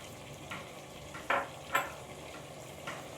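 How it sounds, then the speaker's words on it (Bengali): Mutton frying in a pan with whole lentils and peas, a soft low sizzle with a few scraping stirs of a utensil against the pan. "আমি 4-5 মিনিট ধরে এটা মটনের সাথে ভালো করে মসুর ডাল আর মটরশুঁটি ভালো করে আমি 4-5 মিনিট ধরে ভেজে নেব"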